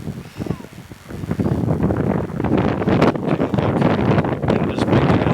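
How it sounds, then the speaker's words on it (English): Strong wind buffets the microphone on a cliff top in Maui, a steady loud roar that swells after the first second and keeps gusting throughout, with faint rustling underneath. "wind is picking up."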